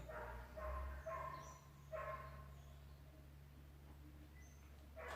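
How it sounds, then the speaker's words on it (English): Distant dogs barking outdoors, a few faint barks in the first two seconds over a steady low electrical hum, then fading into quiet background. "We've got the dogs barking outside."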